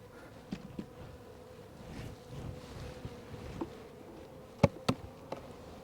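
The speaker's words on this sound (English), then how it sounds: "I wanted to show you a real strong hive." Honeybees buzz around a strong hive outdoors, a steady low droning hum with individual bees zipping close past now and then, the nearest passes louder and brief.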